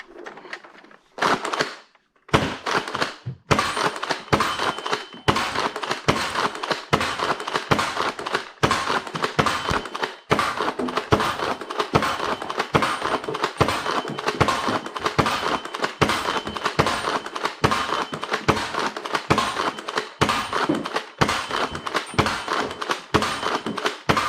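Nerf Hyper Evolve-100 toy blaster firing round after round, a rapid string of sharp, close clacking shots with short pauses between bursts that carries on for over twenty seconds.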